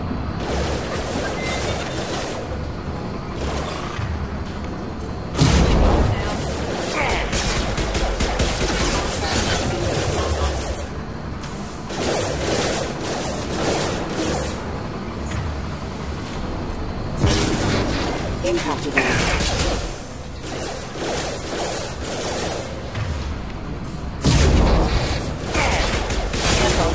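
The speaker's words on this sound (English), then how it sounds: "Taking fire." A firefight in the game Mass Effect 2 at the Hahn-Kedar facility, with dense bursts of gunfire and booming impacts throughout, loud and up close, and a few voice lines in among the shooting.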